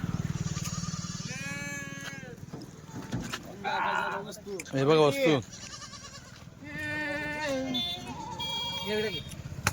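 Kathewadi goats at a herder's farm bleat repeatedly in wavering, nasal cries, several overlapping near the listener, with someone talking over them throughout.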